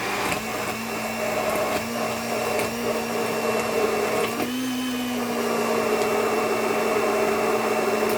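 A blender whirs continuously while mixing rum and raisin ice cream, a steady loud motor drone with a brief pitch rise midway as the load shifts.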